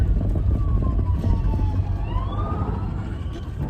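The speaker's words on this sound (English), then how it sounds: "There's police cars coming." Police car sirens wail and rise in pitch as they pass, over a low, rumbling engine drone, heard from inside a moving Talbot Express vehicle with no talking.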